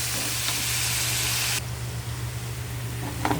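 Lean pork sautéing in a hot pan for pinakbet, a steady broadband sizzle that drops noticeably in loudness partway through, with a faint scrape of stirring near the end.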